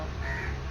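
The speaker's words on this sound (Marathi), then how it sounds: "आता कावळा ओरडला" A crow near Anjuna in Goa gives a short, harsh caw, close and clear over faint outdoor background.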